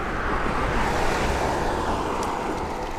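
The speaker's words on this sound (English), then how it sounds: "I'm gonna get hit by a car" A car passing on a road outdoors, a loud steady broadband whoosh of tyres and engine lasting a few seconds, with wind noise on the microphone and no voices.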